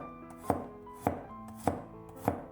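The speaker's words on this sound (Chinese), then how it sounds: "几瓣去皮的大蒜，" A knife slicing peeled garlic cloves into thin slices on a cutting board, four crisp, evenly spaced chops about half a second apart, close and clear with no talking.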